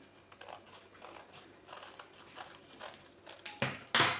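Scissors snip through paper to cut out a petal-design circle, making a run of quiet, close, irregular crisp cuts with a couple of louder snips at the end.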